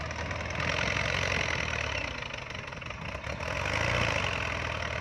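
An earthmoving machine's engine runs steadily up close while pushing soil along a pond bank to make a field entrance, a continuous mid-low rumble with slight rises in load and no talking.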